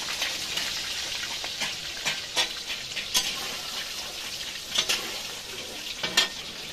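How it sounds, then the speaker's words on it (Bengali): Pumpkin pieces frying in a pan give a steady close sizzle with bursts of crackling and occasional sharp spatters and stirring clicks, heard on their own without voices. "এবার আমি কুমড়োটা ভেজে নেব।"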